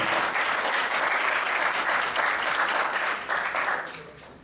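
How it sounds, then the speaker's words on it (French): A live debate audience in Johannesburg applauds a guest from the Congolese opposition, sustained crowd clapping that holds steady, then dips briefly and fades toward the end, with no voices over it. "Puis-je avoir des acclamations pour M. Aimé, s'il vous plaît."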